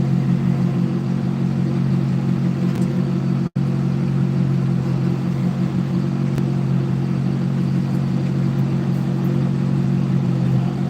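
A tractor engine runs steadily during a hay move, giving a continuous loud, close low rumble that briefly drops out for an instant partway through. No voices are heard.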